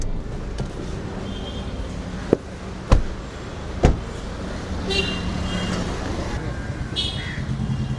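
Busy Mumbai road traffic with a steady rumble of cars and engines, a few sharp thumps and clicks cutting through, and passing vehicles swelling near the end; occasional voices murmur faintly underneath.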